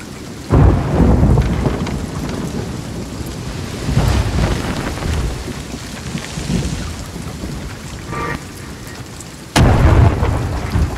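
Thunderstorm with lightning at sea in the video game Sea of Thieves: loud, close thunder cracks with rolling rumbles over steady heavy rain, two sharp strikes standing out, with no talk.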